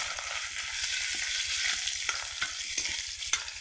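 Local goroi fish and bhedailota leaves fry in hot oil, a continuous close sizzle with rhythmic stirring scrapes and small crackles throughout, no voices.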